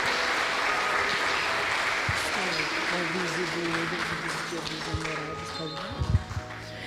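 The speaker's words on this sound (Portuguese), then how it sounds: "Uma salva de palmas para o Senhor." Church congregation clapping together at a Sunday service, a dense, steady round of applause with voices mixed in, fading toward the end into a few scattered louder claps and thumps.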